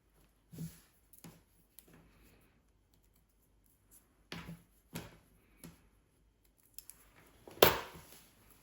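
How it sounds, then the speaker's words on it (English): Small scissors trim excess cotton threads in sparse, irregular clicks close by, quiet gaps between cuts and a sharper snip near the end. "I'm going to grab my little scissors and just trim off the excess cottons"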